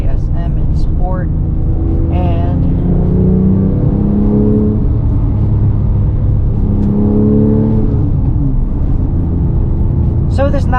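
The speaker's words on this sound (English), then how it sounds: "Today we're doing a POV drive on this beautiful 2007 Porsche 911 GT3." A 2007 Porsche 997 911 GT3 with a 3.6-litre flat-six in sport mode drives steadily, its engine drone rising and falling in pitch as it pulls through gears, heard from inside the cabin with someone talking over it.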